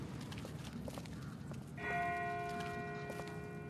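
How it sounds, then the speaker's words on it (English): A distant church-style bell tolls with a sustained, ringing harmonic tone that enters partway through and hangs over a low, rumbling outdoor background. "That's not the same bell as before. This one's further off."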